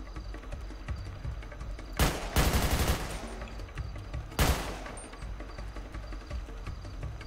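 Rapid bursts of automatic gunfire in a GTA 5 roleplay game crackle twice in short sharp volleys, set against a steady background hum, with no speech.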